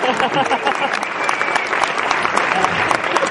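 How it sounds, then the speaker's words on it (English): Comedy show audience at a conference clapping while a microphone is switched, a dense, loud, sustained round of applause filling the room for a few seconds. "Let's just clap for this guy while he switches my mic so it's not as awkward"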